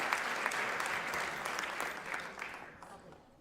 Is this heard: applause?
yes